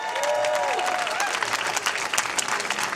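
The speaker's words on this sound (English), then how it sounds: "Diana Day, a big round of applause for Diana Day." A crowd claps steadily in sustained applause, full and continuous, with a voice briefly audible over it near the start.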